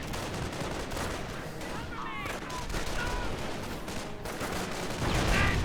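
Heavy MG42 machine gun fire in a Company of Heroes 1 match, sustained rattling bursts mixed into a busy battlefield of gunfire, with brief voice callouts and a louder flare near the end.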